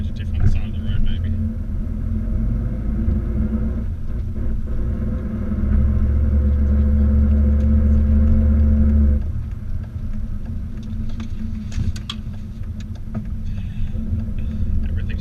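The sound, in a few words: differential noise from a car with a silent exhaust while driving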